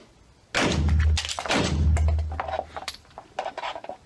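Pistol shots fired during a slide lock reload drill: two loud, sharp, close reports about a second apart, each trailing off, followed by lighter metallic clinks and handling noises.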